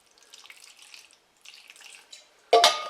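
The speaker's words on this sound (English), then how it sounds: "And let's add some water." Water pours into a container of freeze-dried tortellini in meat sauce, a faint trickling at first, then a sudden loud splashing gush near the end.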